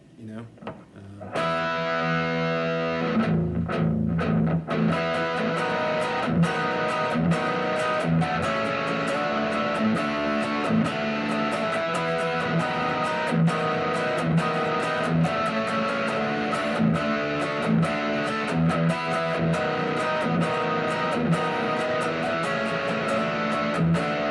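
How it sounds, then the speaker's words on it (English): A heavily distorted Firefly Aerosonic 12-string electric guitar plays loud, sustained chords and ringing strummed notes, steady and close, with no voices. "If I would, ever really use a 12 string with distortion"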